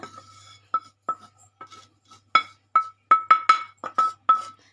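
Freshly roasted sesame seeds are tipped into a mixer jar with a run of sharp, bright clinks and scraping taps, sparse at first and then quicker and louder near the end, with no talking.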